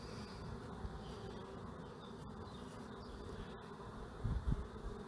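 Steady, low insect buzzing from many honeybees at close range around a hive, continuous throughout with a few louder low thumps near the end.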